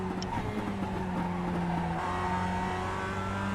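A Mazda MX-5 Cup race car in iRacing holds a steady high engine drone with layered harmonic tones while braking for a corner at Summit Point's Jefferson Circuit, with faint tire squeal.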